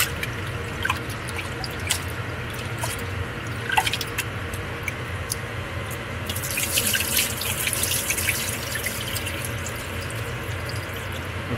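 Rice is washed in water, with running water, splashing and dripping as grains are rinsed by hand, steady and close, with brighter sloshing toward the end.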